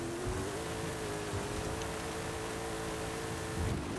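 Car engine in Forza Horizon 5, a steady, fairly quiet hum with a constant tone and slight swells, heard alone without talk.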